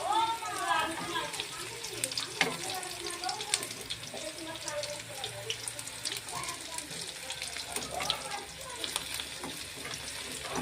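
Pumpkin flower fritters fry in oil with a continuous close sizzle and occasional stirring clinks, while someone talks over the cooking throughout.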